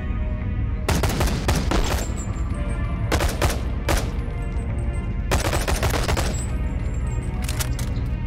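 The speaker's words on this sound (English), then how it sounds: "I hate this SMG." Bursts of submachine gun fire in the VR game Bonelab, loud and close: several rapid automatic volleys separated by brief gaps over a steady dense background of combat noise, with no speech.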